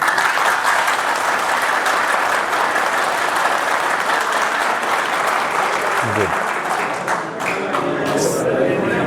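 A group applauds loudly and steadily in a clapping contest, a dense unbroken wall of claps with no talking.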